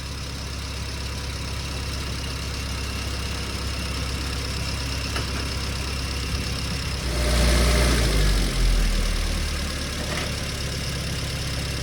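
A car engine idles steadily while its carburettor is tuned and it runs lean, a constant rough drone with a brief swell in the middle as the revs rise and then settle back.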